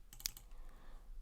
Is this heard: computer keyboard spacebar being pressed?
yes